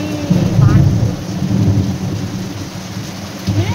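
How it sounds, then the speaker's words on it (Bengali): Heavy rain pours steadily while deep rolls of thunder rumble through, loud and close, swelling at the start and again near the end. "বিশাল বৃষ্টি হচ্ছে গো।"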